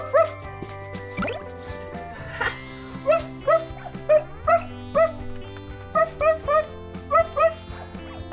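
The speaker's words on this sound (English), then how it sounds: "I spy with my eyes a dog." A cartoon dog gives a series of short, yipping barks in rhythmic bursts of two or three over bright background music, clear and close throughout.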